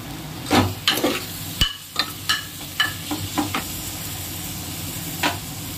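Tomato pieces fry in a hot pan with a low, steady sizzle, broken by a run of sharp clattering strokes of a spoon stirring against the metal, close up and with nobody speaking.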